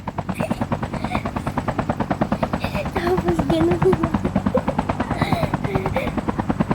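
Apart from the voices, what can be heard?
helicopter in a video game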